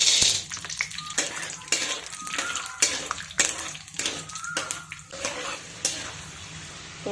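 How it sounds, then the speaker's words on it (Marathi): Peanuts fry in hot oil in a pan, giving a steady sizzling hiss broken by regular metallic scrapes and clinks of a stirring spoon, close and alone without speech. "याच्यामध्ये शेंगदाणे तळून घेऊयात."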